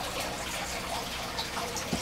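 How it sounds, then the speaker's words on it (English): Aquarium filter pump pushing water up through a planted filter bed with oregano and basil, a steady close trickle and gurgle of flowing water with faint dripping. "The pump pumps the water up."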